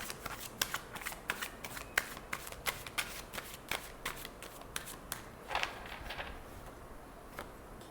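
Tarot cards shuffled by hand in a steady run of crisp riffling flicks, close and fairly quiet, with no voice over it.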